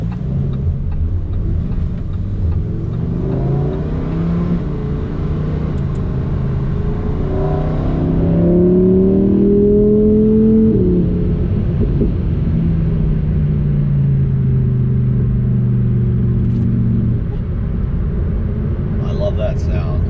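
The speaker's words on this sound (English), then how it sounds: "sound of a V10 engine, big internal combustion, lots of power." A Lamborghini Huracan Sterrato's V10 engine drones and swells while driving on the road, rising in pitch as it accelerates, then settling into a steady cruise, with a loud, close rumble throughout.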